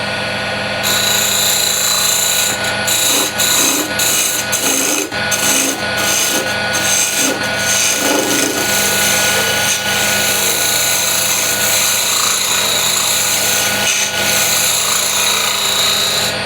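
A lathe tool cuts walnut burl during woodturning, giving a loud steady rasping hiss with scraping bursts early on, continuous throughout without talk.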